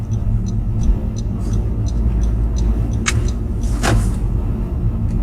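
A car rolls slowly past a two-car crash scene, its steady low engine and road rumble continuous throughout, with a couple of brief sharp clicks or knocks over the drone and no talking.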